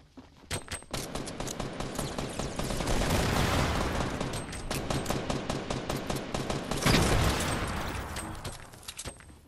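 Rapid bursts of gunfire in the Fortnite video game, dense sustained volleys with scattered single shots, loud and close throughout with brief lulls between exchanges.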